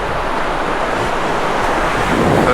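Sea waves break and wash steadily onto the beach at St Ives in Cornwall, a loud continuous surf roar heard up close with wind buffeting the microphone.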